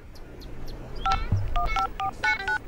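Telephone keypad dialing beeps in a quick run of short two-tone presses, clear and close over a low background hum, with no talk during the tones.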